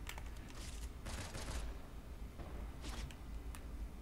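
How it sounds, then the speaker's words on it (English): Bursts of gunfire from behind the players in the video game Fortnite, several rapid volleys over a constant background hum, fairly quiet and distant. "Somebody else is shooting behind us."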